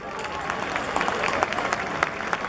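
Audience applause at a ceremony honoring masters of Ayacucho music, steady broadband clapping from a crowd throughout, fairly close and even in loudness.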